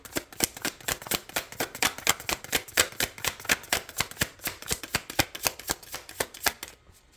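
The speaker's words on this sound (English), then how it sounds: "One more shuffle." Steady rapid card shuffling, crisp rhythmic slaps repeating dozens of times up close, evenly paced, then stopping abruptly.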